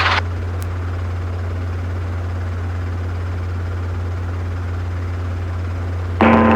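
A helicopter on a low-level training flight near a lakefront airport: a constant, loud rotor-and-engine drone holds steady throughout, with brief louder swells at the very start and end.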